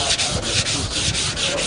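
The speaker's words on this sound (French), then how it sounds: "Je suis ici à l'opération ponçage." Wet sanding with 400-grit sandpaper makes a steady, rhythmic rubbing, a quick back-and-forth scrub repeating about every quarter second, close and continuous, with no voices.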